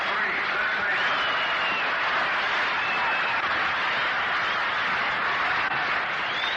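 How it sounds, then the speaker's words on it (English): Steady crowd applause at Braves Field as Bob Elliott comes to the plate for the Boston Braves against the Cleveland Indians in Game 6 of the 1948 World Series, a distant, even roar on an old broadcast recording. "That round of applause greets the appearance at the plate for the Boston Braves in the last half of the second inning"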